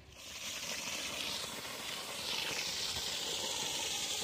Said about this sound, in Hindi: ये देख सकते हैं पानी जनाब कैसे प्रेशर के साथ आ रहा है।